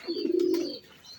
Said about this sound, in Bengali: কবুতরটা জোড়া নেওয়ার জন্য প্রতিনিয়তই খুব ডাকতেছে।